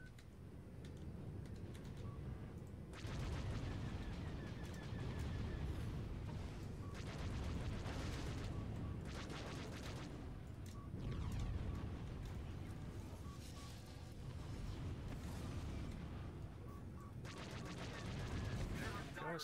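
Heavy missile strikes and EMP blasts roar through a close-range space combat video game battle, with repeated booming explosions and dense rumbling bursts filling the scene from start to finish.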